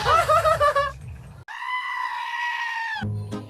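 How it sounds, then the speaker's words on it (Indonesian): A baby goat bleats in one long, loud, wavering cry, set between stretches of busy, noisy sound with a brief gap before it and a low rumble after. "Bahkan anak kambing yang lucu ini aja kalah menggemaskannya dengan si Engkok"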